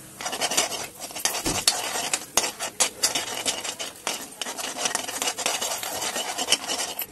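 Chana dal and garlic being stirred in a pan for mirapalla pachadi, a steady scraping and rasping of a spoon against the pan that runs throughout with small clinks, close and fairly loud, with no talking.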